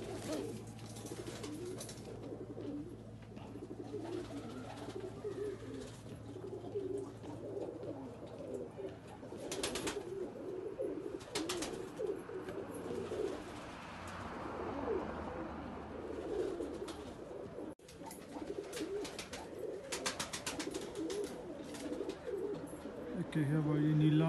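Low pigeon cooing from a blue male and a copper-coloured female runs through a long, busy stretch, with people talking and scattered handling noises around the birds.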